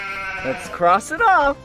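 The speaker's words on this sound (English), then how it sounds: "It's a sheep." Sheep bleating on a farm, a few wavering calls rising under a cheerful adult voice speaking in a children's animal lesson.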